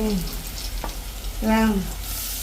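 Garlic, onion, green chilli, fennel and mustard seeds temper in hot oil in a Jaffna village kitchen. A soft sizzle runs under brief bursts of nearby talk.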